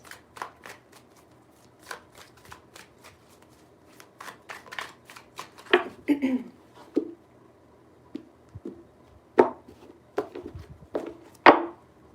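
Tarot cards shuffled three times in a quiet room, a series of crisp riffling bursts and soft slaps close by, with pauses between the shuffles.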